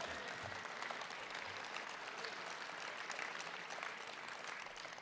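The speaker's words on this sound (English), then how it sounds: "I get more applause." An audience claps steadily, a dense patter of many hands sustained throughout, fairly close and even in loudness.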